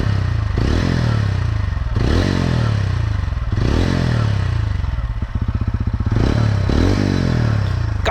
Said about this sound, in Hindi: let me make you hear the exhaust note now